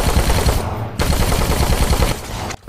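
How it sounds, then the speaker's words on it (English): Fireworks fired from a crossbow in the zombie game Dead Rising 4, a dense, loud crackling barrage of rapid bursts with brief gaps, no voices. "We've got fireworks on a crossbow here"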